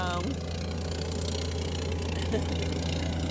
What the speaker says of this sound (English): He's got a little tiny tractor.